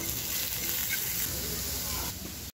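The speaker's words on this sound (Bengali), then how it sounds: "সব কাটা হয়ে গেছে, ফ্রাই করতে দিয়ে দিয়েছি" Chopped ingredients for Maggi noodles fry in a pan, giving a continuous, even sizzle up close with no other sounds on top.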